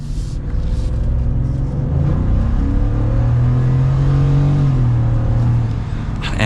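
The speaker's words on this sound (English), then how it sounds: "So here we go with a mild acceleration with this V8." A 2022 Ford F-150 pickup's V8 exhaust rumbles close by under mild acceleration, its deep tone climbing steadily and swelling to a sustained growl before easing off.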